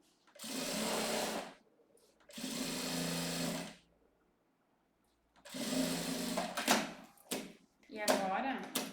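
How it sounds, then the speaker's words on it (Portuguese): Bursts of a sewing machine stitching a seam on a cosmetic case, in three long runs and a shorter stuttering one separated by pauses, close and steady while it runs. "a gente já pode fazer essa costura aqui do outro lado"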